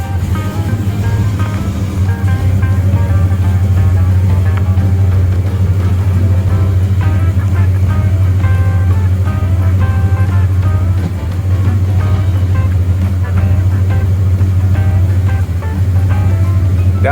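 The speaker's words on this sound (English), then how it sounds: "I'll start the engine." Old Chevrolet Squarebody Suburban truck engine running at a steady idle, a loud, continuous low rumble with no talking over it.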